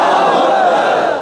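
A large crowd at a religious rally roars back a Takbir chant in unison, one loud sustained shout filling the space.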